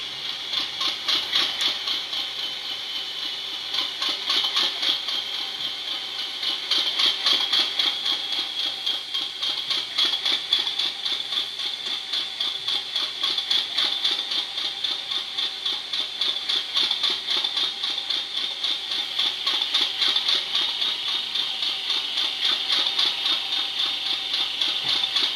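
A JLTRT Class 50 model locomotive's engine idles with a steady, close rumbling drone and a faint rhythmic rattle that continues unbroken throughout.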